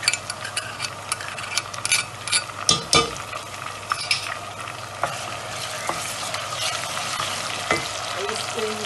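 Garlic frying in hot ghee with onions in a pan, a steady close sizzle with scraping and stirring clicks of a utensil against the pot.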